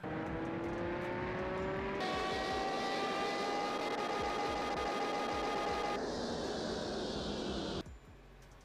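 Simulated car engine in Car Mechanic Simulator 2021 revving on a dyno, a steady loud drone whose pitch climbs in stages with gear shifts before cutting off near the end.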